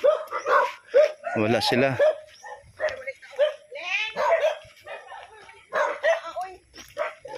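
Several dogs, four of them, bark and yip near a house in the Philippines, the barks coming in short bursts while people talk over and between them.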